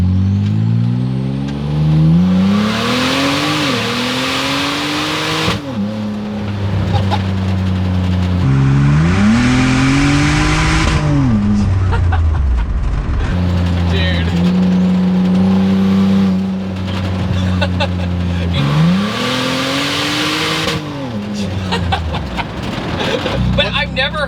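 Ford Ranger with a swapped twin-turbo 3.5 EcoBoost and open downpipe, revving hard in several loud rising pulls separated by drops and rough idle, with turbo whoosh and voices talking between pulls.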